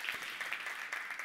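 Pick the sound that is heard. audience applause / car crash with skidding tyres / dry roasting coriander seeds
audience applause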